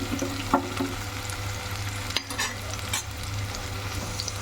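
Onion fries steadily in a pan for mutton curry, a continuous close sizzle with a few soft stirring knocks and scrapes throughout.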